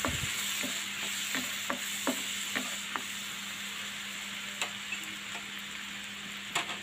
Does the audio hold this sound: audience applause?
no